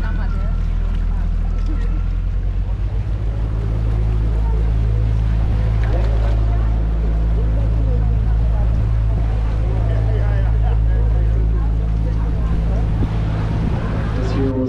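A small tour boat's engine drones low and steady while motoring along the canals of Bruges, Belgium, with a guide's voice and passengers talking over it throughout.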